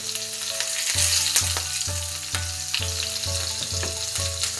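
Chopped green chillies sizzle and fry in hot oil with cumin seeds, a steady close crackle with stirring scrapes at a regular pace, no voices.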